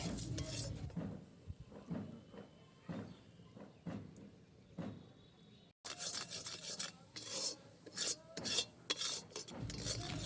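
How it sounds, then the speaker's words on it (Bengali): Jaggery cooking down in a pan is stirred with a spatula, giving repeated scraping and rubbing strokes close up, uneven in rhythm with short pauses. "দেখুন নাড়তে নাড়তে গুড় কেমন হয়ে গেছে।"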